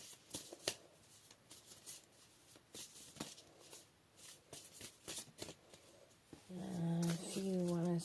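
Soft, irregular riffling and snapping of tarot cards being shuffled, close and quiet, with a voice beginning to speak near the end.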